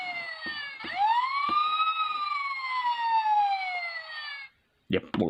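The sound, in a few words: long siren sound from Transformers toy fire truck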